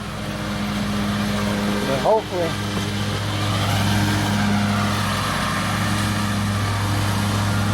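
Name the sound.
lawn mower mowing a yard nearby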